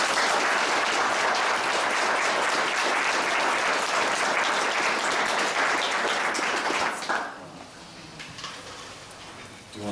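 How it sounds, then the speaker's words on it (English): Applause at a North Branford Board of Education meeting, recognizing a feline rescue fundraiser; sustained crowd clapping for about seven seconds, then it drops off into quieter room noise. "Can we have a round of applause?"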